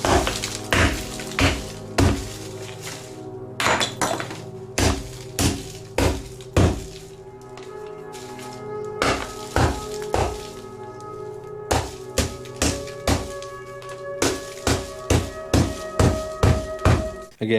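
Repeated hard hammer strikes on an ornament land in irregular bursts, sharp knocks with a ringing, glassy tone, some in quick succession, others spaced by pauses; close and loud.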